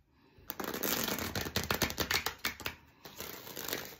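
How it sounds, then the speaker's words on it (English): Tarot cards being shuffled by hand, close and crisp, with rapid riffling bursts and quick flicking slaps in an irregular rhythm after a brief quiet start, no voices. "I'm going to give these cards a shuffle, cut them"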